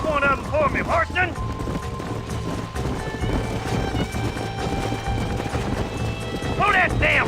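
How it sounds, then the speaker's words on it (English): Horses gallop in the Red Dead Redemption western video game, with steady clip-clop hoofbeats running throughout, occasional whinnies, and background game ambience. Shouting voices cut in at the start and end. "There's the horses!"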